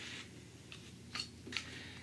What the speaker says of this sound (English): we are just going to cut out the holes in our mask so that we will have something to see through.